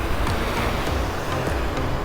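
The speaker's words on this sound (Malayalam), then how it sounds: "കടലും പുഴയും ഒന്നിക്കുന്ന അഴിമുഖമാണിത്" Sea surf rolling in at an estuary where a river meets the sea, heard as a steady broadband wash with low rumble and light wind, continuous and moderately loud with no voices.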